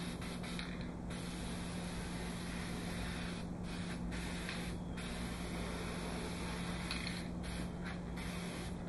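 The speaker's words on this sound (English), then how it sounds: "Now what you do is you take a little bit of black spray paint." Black spray paint is misted from an aerosol can onto material for a satellite dish trough conversion, a close, loud hissing spray with several short bursts and gaps, plus a steady low hum underneath.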